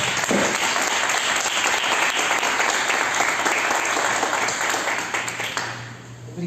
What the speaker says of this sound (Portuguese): Vamos aplaudir os nossos pais.